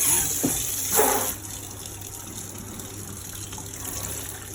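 Water runs steadily from a tap with a loud, continuous rushing hiss, a brief splashing surge near the start, then an even flow.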